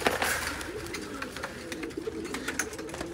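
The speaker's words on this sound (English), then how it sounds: "So those are my pigeons. Those are all of the males." Male pigeons coo softly in a loft, several birds overlapping in low, rolling calls with occasional sharper bird sounds, fairly quiet and close.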